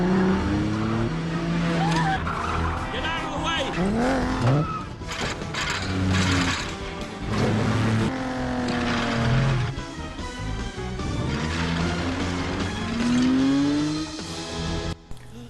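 Animated race cars tear through a chase scene in Pixar's Cars 2, with engines roaring, tires squealing and skidding close up under a dramatic music score, and a voice shouting once.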